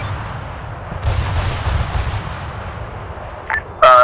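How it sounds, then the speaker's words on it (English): Distant boom of BTR armoured vehicles firing in the Arma 3 war game, a low rumbling volley that swells for a few seconds, followed by brief radio beeps and a burst of static. "One of your BTRs are firing out that direction"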